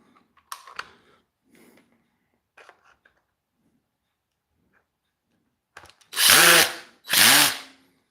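Two loud, sustained bursts from a Makita drill driving screws, each lasting under a second, follow a few faint clicks and light handling noises.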